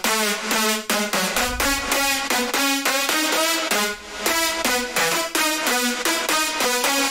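A future house main lead synth plays a bright, harmonically rich melody of short rhythmic stabs, its reverb tail and pitch automation swelling between notes; loud, up front and alone with no talk.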